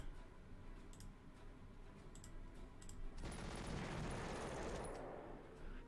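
Artillery shelling in the wartime strategy game Panzer Corps on the Smolensk mission: faint ticking clicks give way to a sustained rumbling, crackling barrage of rapid impacts that swells and then fades slightly, heard without talk.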